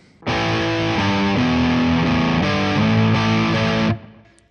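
An electric guitar played through the BOSS MS-3's Governor distortion drive rings out in a thick, saturated sustained chord that shifts a few times before being cut off, loud and alone with no talking.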